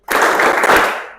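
A classroom of students claps together in a short, dense burst as part of a focus chant during a history lesson, the claps close and loud, lasting about a second before tapering off.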